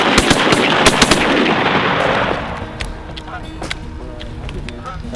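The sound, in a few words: gunshots while goose hunting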